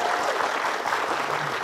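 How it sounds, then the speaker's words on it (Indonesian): Audience applause at a Balinese quiz show semi-final, a steady dense wash of clapping throughout with a faint voice murmuring underneath. "Tepuk tangan dulu dong."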